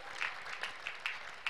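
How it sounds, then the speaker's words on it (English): A church congregation applauds for Jesus at a healing service. The clapping is quick and spread out with a few sharper claps standing out, and it sounds somewhat distant and moderate in level. "Can we clap for Jesus? Clap for Jesus. Clap for Jesus."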